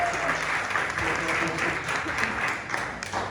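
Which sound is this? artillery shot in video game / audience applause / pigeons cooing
audience applause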